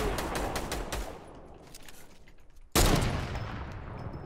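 Rapid gunfire in the video game Fortnite, a burst of quick shots that trails off into quieter distant pops, then a sudden loud new volley of dense automatic fire.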